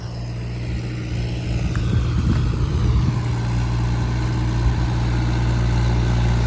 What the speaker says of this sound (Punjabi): ਮਾਹਲ ਬਾਈ ਦੇ ਖੇਤਾਂ ਵੀ ਕਰਤਾ ਉਦਘਾਟਨ ਰੂਟਾਵੀਟਰ ਦਾ ਨਵੀਂ ਮੋਟਰ